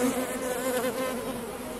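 Honey bees buzzing close by around an open hive being split into a nuc, a dense continuous drone with shifting pitch as insects fly near.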